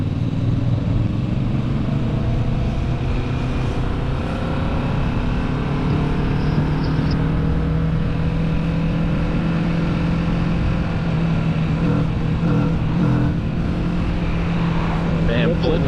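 A Kawasaki Vulcan S motorcycle pulls in third gear around 40 miles an hour, its engine droning steadily with a low hum and wind noise under people talking throughout.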